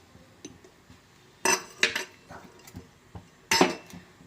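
A metal kadai is set down on a stove before cooking bitter gourd poriyal: two loud metallic clanks stand out among lighter knocks and taps of cookware, close by, with no talk.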